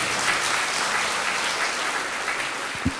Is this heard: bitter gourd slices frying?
no